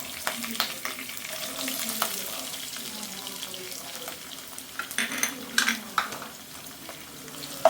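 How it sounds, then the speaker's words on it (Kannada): Chopped onions fry in a pan with curry leaves and green chilies, giving a steady close sizzle broken by clinks and scrapes of stirring, with no talking. "ಈರುಳ್ಳಿನ ಕೆಂಪಾಗಿ ಹುರ್ಕೊಳ್ಳೋಣ."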